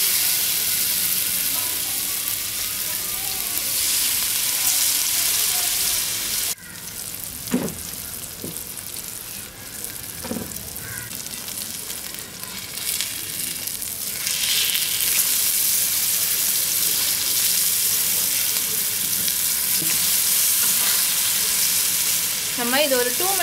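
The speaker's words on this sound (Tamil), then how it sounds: "இப்போ மேரினேட் பண்ணி வச்ச ஃபிஷ்ஷை நம்ம ஃப்ரை பண்ணி எடுத்துக்கலாம்." Marinated fish for Kerala-style pollichathu fries in a hot pan with a constant loud sizzle, broken by occasional clatters and scrapes as pieces are placed and turned.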